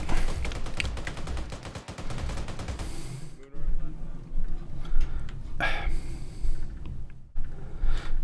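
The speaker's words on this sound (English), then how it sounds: "Grenades." Rapid bursts of video game gunfire and grenade blasts crackle through a tense combat scene in Task Force Jormungandr, loud and close, with dense automatic fire early, then sharper sporadic explosions and shots.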